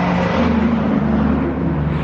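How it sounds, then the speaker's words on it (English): A truck drives past near a Pacific Ocean shoreline, a steady, loud low engine rumble and rushing whir that holds for about two seconds before easing slightly. "There's a truck."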